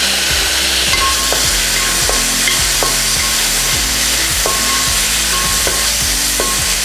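Chopped tomatoes sauté in hot oil for a Kerala-style beef curry, producing a loud, dense, continuous sizzle with regular knocking and scraping of a stirring utensil against the pan.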